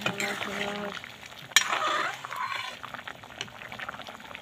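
Rice and lentils with egg and pointed gourd bubble in a pot on a gas flame, a steady close simmer with scraping and clinking of a utensil against the pot.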